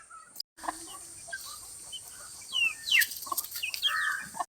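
Two-month-old Aseel cross chicks peep and cluck in short, thin, scattered calls, faint and fairly close, over a quiet background hiss.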